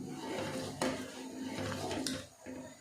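A spoon scrapes and clinks inside a pot as thick copra coconut porridge is stirred, with soft knocks against the sides.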